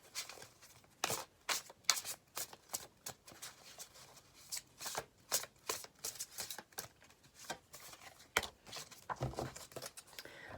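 A deck of cards being shuffled for a weekly tarot-style reading, with rapid bursts of riffling and slapping card edges that repeat throughout, close and fairly quiet, with no talking.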